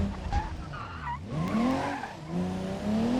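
A car in BeamNG braking late, its tires squealing and skidding in a couple of long, wavering screeches over a running engine, close and loud.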